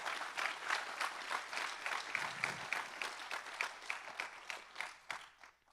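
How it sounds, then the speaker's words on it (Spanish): Church congregation applauding during a worship service, a steady wash of clapping from many hands that holds for several seconds, moderately distant and without talk over it. "Dale un fuerte aplauso."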